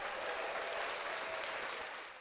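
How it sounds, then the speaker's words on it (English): Audience applause for a woman named Jewel at a gathering, a brief, steady wash of clapping heard at a moderate distance and fading slightly at the end. "I really want to give another round of applause to Jewel"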